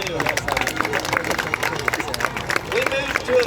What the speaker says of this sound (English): Ladies and gentlemen, how about a round of applause for your rodeo royalty this afternoon?